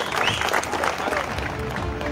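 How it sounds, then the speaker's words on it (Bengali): A crowd at an outdoor felicitation ceremony for Jayanta Singh applauds in steady, dense clapping, with faint voices mixed into the applause. "জোরে হাততালি সবাই জেন্টের জন্য।"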